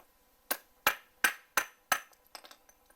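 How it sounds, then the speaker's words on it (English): A hammer driving a wooden golf tee into a drilled hole in brick: five sharp, evenly spaced close knocks, followed by a few lighter, quicker taps. "I'll hammer that down till it gets as far as it'll go, and I can break it off."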